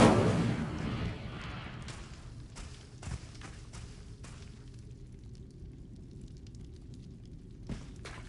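An Incendio fire spell cast in a Harry Potter wizard game goes off in a loud whooshing burst of flame that fades into a low rumble, with a few scattered pops and thuds trailing after it.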